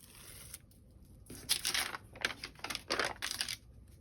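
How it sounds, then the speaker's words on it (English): Double-sided tape being peeled from its backing and pressed onto paper for a small craft project, quiet close-up bursts of crackly tearing and rustling in several short bouts. "So I just put some of this double-sided tape on there. Peel it off."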